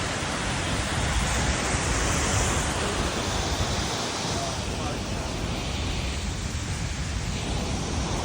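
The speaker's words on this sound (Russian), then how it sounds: "И вот мы на второй платформе обозрения водопада." A waterfall in Austria roars nearby from a viewing platform, a loud, unbroken wash of rushing water that fills the whole scene without pause.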